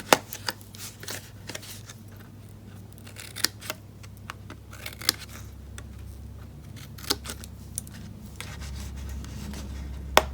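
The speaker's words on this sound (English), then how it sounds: "we're going to cut up to those score lines and notch in on either side again" Scissors snipping card stock up to score lines while making a paper treat box, a series of short crisp cuts at an irregular pace, close and fairly quiet over a low steady background hum.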